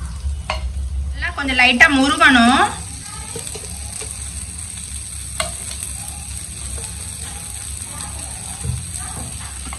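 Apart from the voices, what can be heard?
jalar murtabak frying in pan, being flipped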